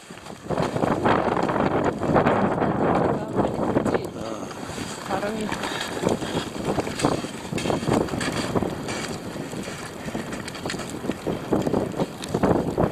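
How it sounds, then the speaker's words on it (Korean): Strong mountain wind gusts roar and buffet the microphone on a hiking route up Eiffel Peak. The wind stays loud and close throughout, with brief voices heard beneath it. "바람이 너무 많이 분다"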